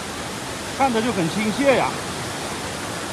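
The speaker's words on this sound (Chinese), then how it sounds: "这小溪流声音还挺大的啊" A small mountain stream at Yuntai Mountain rushes with a constant broadband hiss, fairly loud and close, while a voice speaks briefly over it.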